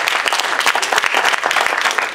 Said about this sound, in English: So give your guys a round of applause for yourselves